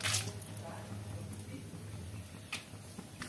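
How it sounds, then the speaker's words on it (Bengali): Peanuts fry lightly in a small amount of hot oil with a soft, steady crackle and faint ticking pops. A low hum runs underneath, and one brighter burst comes near the end. "আচ্ছা তেলটা গরম হয়ে গিয়েছে, আমি এবার বাদামটা একটু ভেজে নিচ্ছি"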